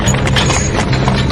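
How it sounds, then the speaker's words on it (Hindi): Horse hooves clip-clop steadily as a horse-drawn coach sets off, the close, loud rhythmic beats carrying a few faint snorts, played as an eerie horror-story effect. "चुपचाप कोच पर सवार हुआ और घोड़े चल पड़े जैसे कुछ हुआ ही ना हो"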